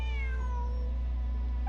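A cat named Bonnie meowing in the Genshin Impact video game, giving one long drawn-out meow that slides downward over a constant low hum, with no talk.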